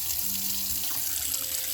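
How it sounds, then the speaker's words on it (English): Tap water runs steadily into a kitchen sink to soak fruit for homemade baby food, a continuous close hissing splash that stays even and fairly loud throughout, with no one talking. "I'm gonna go ahead and run some water to soak all our fruit."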